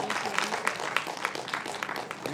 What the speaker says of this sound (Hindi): एक बार हमारे तमाम अतिथियों के लिए जोरदार तालियां बजाई जाएं